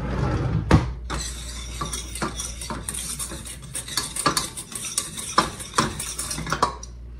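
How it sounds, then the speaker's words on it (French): A utensil stirs a flour mixture in a bowl, with close scraping and irregular clinks against the sides continuing throughout, no voices. "Mélange la farine."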